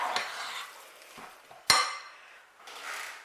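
Patty batter for a 1960s-style roast patty recipe being stirred in a bowl with big circular scoops, giving soft scraping and swishing strokes in bursts, with one sharp utensil clink against the bowl partway through.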